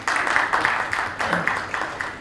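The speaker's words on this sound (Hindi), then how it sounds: "तालियां होनी चाहिए।" An indoor audience breaks into steady applause at a talk on yoga and decision-making, many hands clapping in dense overlapping bursts at moderate loudness, with a faint murmur of voices beneath.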